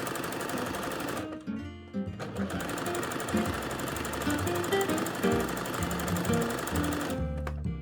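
Sewing machine stitching the side seam of a bodice, a steady loud mechanical whir that runs nearly continuously, pausing briefly near the start and again at the end.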